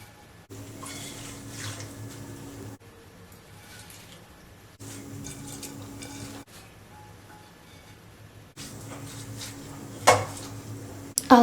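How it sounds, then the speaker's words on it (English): Pennywort leaves are rinsed in clean drinking water in a pot, with sloshing and splashing in several separate bursts broken by short pauses, plus a couple of sharper clinks of the vessel near the end. "Now let us rinse it properly."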